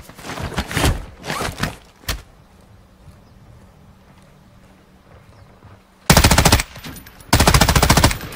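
Automatic weapons fire in a multiplayer video game: a few rapid bursts early on, then quiet, then two long, loud, close bursts of rattling gunfire near the end.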